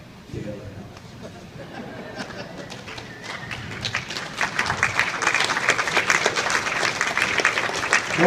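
Audience applause at a speaking event, starting sparse and growing into fuller clapping that gets louder toward the end, with a voice speaking over it.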